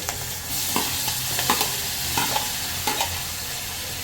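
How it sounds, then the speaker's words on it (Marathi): Curry leaves, chili and tomato frying in hot oil on a gas stove, a loud close sizzle with spatters and pops and occasional stirring clinks, with no speech. "कडीपत्ता तर फोडू द्या जरा लांबच राहा गॅसपासून"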